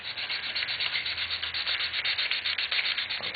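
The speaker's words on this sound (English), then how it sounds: "Put the sanding block to the side." A sanding block rubs back and forth over a wooden Pinewood Derby car, a close, steady rasping scrape in quick repeated strokes with no talking.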